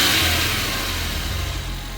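A Suzuki DA64W engine, a small-displacement automatic, revving steadily and close up, with a continuous low drone that holds for about two seconds without dropping off.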